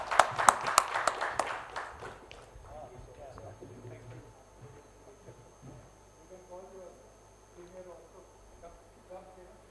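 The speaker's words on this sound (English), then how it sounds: "A round of applause for that, please." An audience at a silver jubilee celebration claps in a brief burst of applause at the start that quickly fades, followed by a voice speaking over a quiet hall.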